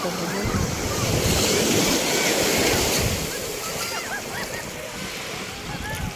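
Sea surf at a beach resort in Naic, Cavite washing in and out under strong wind rumbling against the microphone, loud at first and then easing slightly.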